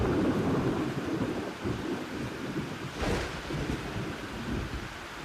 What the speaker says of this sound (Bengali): ঝমঝম বৃষ্টি পড়ছে।